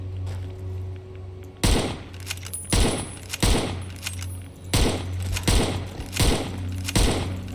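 Video game gunfire in Fallout: New Vegas, about six heavy shots spaced roughly a second apart, each a loud booming crack with a brief tail over a low hum.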